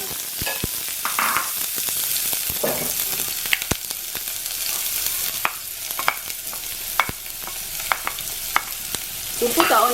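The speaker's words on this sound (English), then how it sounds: "We'll put our onions and garlic and then give it a good stir." Onions frying in heated oil in a pot for a Nigerian meal, a steady loud sizzle throughout with frequent sharp crackles and pops scattered across it, close and without talk.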